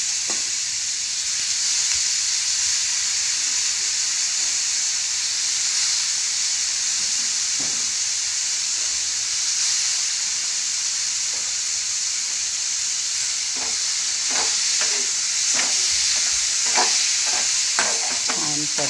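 Soaked kurdai tossed with onion and tomato in a pan give a steady, loud sizzle and hiss, with occasional scraping stirs and clinks of a spatula later on.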